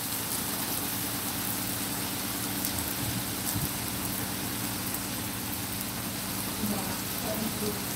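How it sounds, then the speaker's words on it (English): Light drizzle of rain falling in a city street beside a building, a soft steady hiss that runs the whole time with faint traffic rumble beneath and no talking. "Just a little drizzle."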